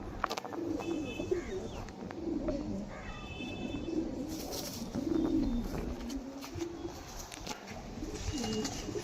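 Several loft pigeons kept by a Howrah fancier give repeated low coos throughout, near and fairly steady, over a light ambient hiss.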